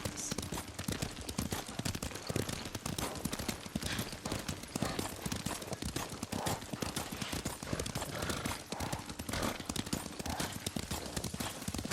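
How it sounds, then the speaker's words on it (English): Horse hooves clip-clop steadily at a quick riding pace in the samurai game Ghost of Tsushima, a continuous rhythmic patter under voices talking. "Lord Sakai taught me to ride a horse."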